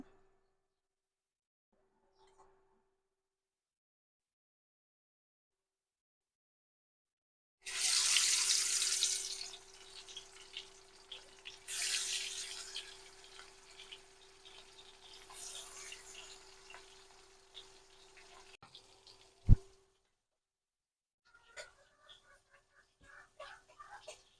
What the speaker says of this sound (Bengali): এইভাবে কষলে কষলে কলাগুলো ধুয়ে নেব